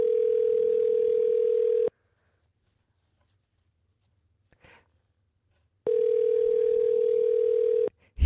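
An unanswered outgoing phone call rings twice, each a steady electronic ringback tone lasting about two seconds, separated by a long quiet gap with a brief faint rustle in between.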